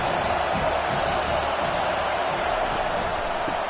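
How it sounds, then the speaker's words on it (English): A dense stadium crowd roars steadily throughout a televised college football game in EA Sports College Football 25, Texas Longhorns against Arkansas Razorbacks, a loud continuous wash of cheering with faint voices under it. "This crowd knows when to bring it."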